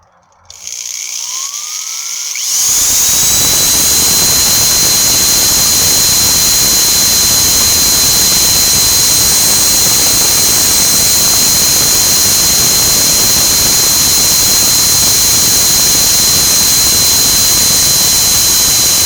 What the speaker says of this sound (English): we're going to cut off this handle of the spoon